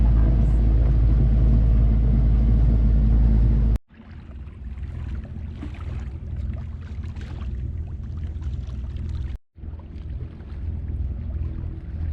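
Sailboat's motor running, a loud steady low drone for the first few seconds that then cuts off, leaving quieter wind and water noise with a brief break.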